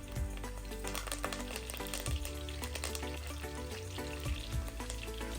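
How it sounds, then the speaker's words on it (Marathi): Garlic and curry leaves frying in hot oil in a pan for a village-style chicken liver masala, a steady soft sizzle with faint stirring clicks and scrapes throughout. "एवढी लसूण आपली फ्राय झाली ना की आपण याच्यामध्ये आता कढीपत्ता घालून घेऊया"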